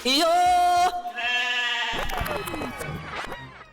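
A loud, drawn-out goat bleat rings out close by on a comedy stage, then gives way to voices and clattering background sounds.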